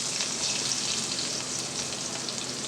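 Onion frying in a pan gives a steady, soft, hissing sizzle with fine crackle throughout, fairly quiet and with no voice.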